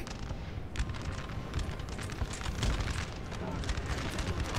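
Booming cannon fire and explosions on a Napoleon Total War battlefield, a continuous rumbling wash of blasts with sharper bursts, under someone speaking German.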